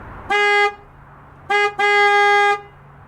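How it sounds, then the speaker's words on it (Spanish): Steering-wheel horn of a Saleen S7 supercar sounds in two loud, steady honks, a short blast followed after a brief pause by a short stab running straight into a longer held tone, with no voices. "si lo presionas, se escucha la bocina"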